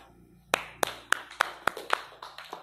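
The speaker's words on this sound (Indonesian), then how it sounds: "Oke, tepuk tangan." Seven sharp hand claps from a group in a steady rhythm, then a couple of softer trailing claps, ringing slightly in a room.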